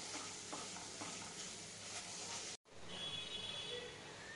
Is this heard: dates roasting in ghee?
yes